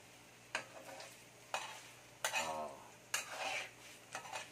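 A spoon stirs food in a pan in sharp, spaced scrapes and clinks, about five strokes over a faint sizzle, close and clear with no talk.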